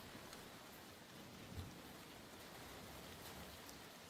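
Steady rain and wind hiss through a Call of Duty match, a dense, even wash of drops at moderate level with no voices, a brief low thump rising once near the middle.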